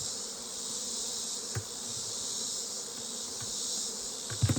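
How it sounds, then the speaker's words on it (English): Honeybees buzzing at a hive during an inspection, a dense, continuous hum of many insects close by, fairly quiet overall, with a couple of faint knocks and rustles and no voices. "A lot of bees on it."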